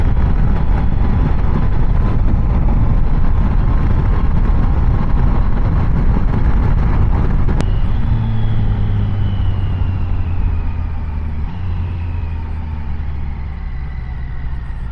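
A Triumph Tiger 800 Sport motorcycle engine revving hard while riding, a loud steady roar with wind rush that eases into a lower, smoother drone as the bike slows, steady and close throughout.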